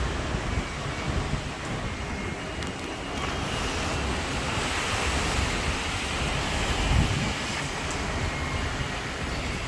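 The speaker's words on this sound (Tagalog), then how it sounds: "Lakas na ang hangin guys." Strong typhoon wind roars steadily outdoors in Hong Kong with heavy rumbling gusts buffeting the microphone, continuous and loud throughout.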